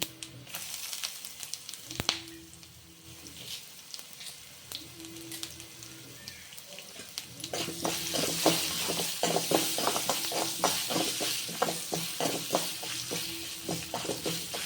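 Curry leaves and ginger, added for Kanchipuram idli, crackle in a pan, starting as a quiet hiss with a few pops and then building into a dense, loud spattering sizzle with stirring.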